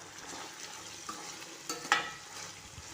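Homemade bisibele bath with red chilli powder and spice powder being stirred in a pot, a soft steady scrape of spoon against metal with a few brief clinks near the end, faint and close.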